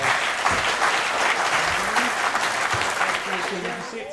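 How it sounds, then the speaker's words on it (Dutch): A hall audience gives warm applause to an honours recipient at a Dutch regional royal decoration ceremony, the clapping dense and even throughout, with faint voices mixed underneath. "Een applaus voor jou."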